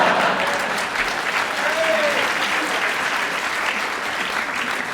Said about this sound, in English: That round of applause was because Ross offered her his buzzer.